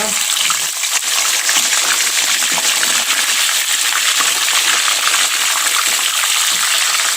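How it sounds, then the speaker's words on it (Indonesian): Chicken meat frying in hot vegetable oil for Indonesian ayam goreng, a steady, loud, dense sizzle and crackle that runs unbroken throughout with no voices over it. "Ini minyak sayurnya sudah panas, lalu kita goreng untuk daging ayamnya."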